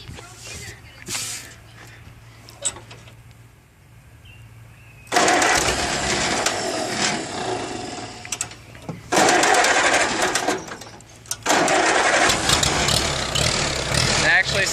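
An old barn-find engine, kept on choke, on a CA Allis Chalmers or Honda CB350 cranks and fires, then runs loud and rough in bursts with brief dips between. Someone talks quietly over the quieter stretch before it catches.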